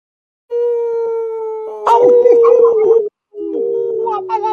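A man imitates a dog's howl, holding a long wavering tone before breaking into rougher, rising howls, close and loud with a short pause near the end.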